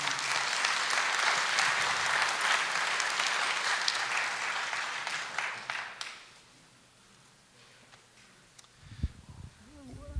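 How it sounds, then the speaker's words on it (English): Audience applause for a timekeeper at an event, a dense burst of clapping lasting about six seconds and then dying away into quiet, with a brief low sound near the end. "Everyone give a round of applause to Darcy for time."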